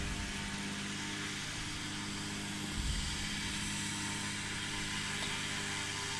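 A STOL aircraft at the Swamp STOL competition in Jennings, Louisiana, engine droning steadily as it begins its run from the line, a broad continuous roar with a brief low thump midway, heard from a moderate distance.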